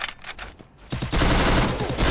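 Dense automatic gunfire from a battle royale video game, a brief lull followed by a sustained loud burst of rapid shots filling the last half of the moment.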